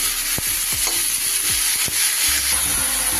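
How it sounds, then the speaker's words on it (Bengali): Snake gourd and potatoes fry in a pan for a Bengali vegetarian posto dish, giving a steady close sizzle with several sharp scraping stirs of a spatula and no voices. "চিচিঙ্গেটাও একটু আলুর সাথে ভালো করে ভেজে নেব।"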